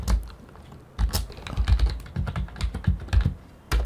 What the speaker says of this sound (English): So the first thing to do is actually go to Google and we want to type this command.